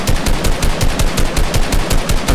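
Rapid automatic gunfire in a Fortnite build battle, a dense, steady stream of loud shots at an even rhythm with no pauses.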